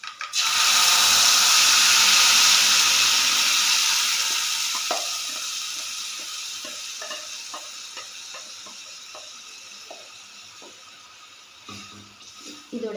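Tomato puree poured into hot oil with garlic for a tomato thokku, giving a loud, close sizzle that bursts at once, then settles into a steady, gradually softening fry with small pops and stirring clicks.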